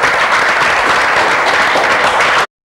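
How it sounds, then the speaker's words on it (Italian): Studio audience applauding guests on a 2004 Italian TV sports talk show, a dense, steady wash of clapping at full loudness that cuts off abruptly. "allora un applauso per questi ragazzi veramente."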